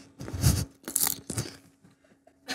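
Crisp chips crunch and crackle as they are bitten and chewed up close in a quiet room, coming in two or three bursts followed by softer chewing and faint rustles.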